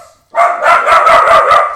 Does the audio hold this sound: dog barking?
yes